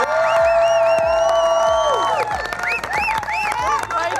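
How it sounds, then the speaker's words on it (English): A crowd at a 2018 university graduation ceremony applauds and cheers loudly, with whoops rising over music that has a steady thumping beat. "Please give a large round of applause to the Refreshers University graduates of 2018."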